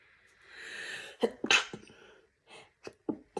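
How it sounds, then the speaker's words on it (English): A single sneeze with a sharp intake of breath before it, followed by a few quieter sniffs and breaths, close and otherwise quiet. "I'm going to sneeze."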